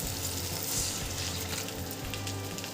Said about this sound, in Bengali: দিয়ে দিচ্ছি এই মগের 1 মগ জল,